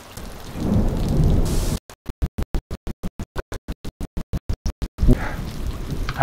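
Rain and rumbling thunder in the shooter game Call of Duty: Advanced Warfare, a loud steady downpour that cuts into a rapid stuttering pulse of bursts before the storm returns, with no talking.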